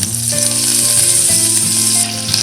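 Crushed garlic, curry leaves and mustard seeds crackle loudly in hot oil for a Marathi tempering, a dense, close sizzle with steady popping and faint clinks of a utensil.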